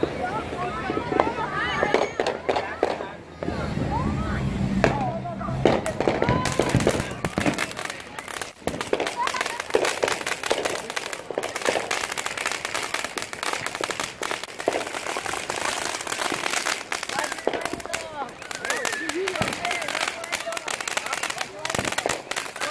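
Firecrackers and fireworks set off by residents in the street for the July 4th celebrations, with crackling pops and bursts running continuously over steady crowd noise and talk.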